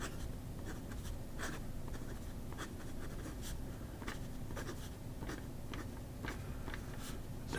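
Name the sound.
writing with a Majon P140 fountain pen nib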